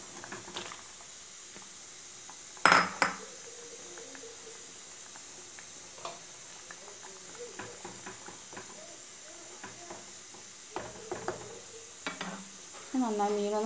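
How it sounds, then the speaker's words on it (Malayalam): Fish pieces go into a thickened, boiling Kannur-style red chilli fish curry, followed by a sharp clatter, then stirring and a low simmering hiss with occasional utensil knocks and bubbling near the end. "ഇതിലേക്ക് മീൻ ഇട്ട് കൊടുക്കാം."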